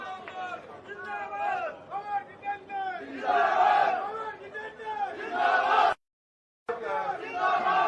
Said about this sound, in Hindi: जोरदार तालियों से भंवर साहब का स्वागत करें।